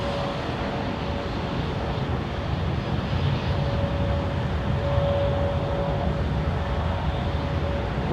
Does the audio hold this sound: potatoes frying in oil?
no